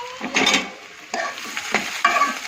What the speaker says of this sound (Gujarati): હવે ડુંગળી થોડી આપણે શેકાવા દઈએ।